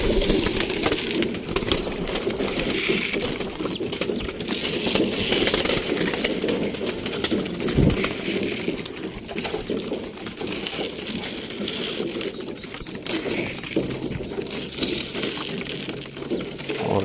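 Pigeons feed in a loft with occasional cooing and a brief flutter of wings, over a steady background engine hum.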